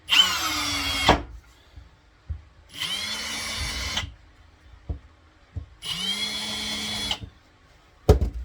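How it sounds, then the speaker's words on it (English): A power drill whirs in three bursts of about a second each, driving screws into countersunk holes while building a bandsaw table, pitch sagging as screws bite in, with small clicks and knocks between. "Whack some more screws in there"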